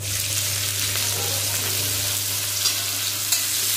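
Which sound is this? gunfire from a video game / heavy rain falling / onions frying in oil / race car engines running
onions frying in oil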